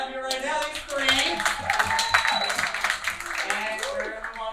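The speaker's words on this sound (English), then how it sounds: "Clap it up for these contestants that we have here right now" An audience at a live comedy show in New York claps for the contestants, a dense burst of applause that holds for several seconds and tapers slightly toward the end.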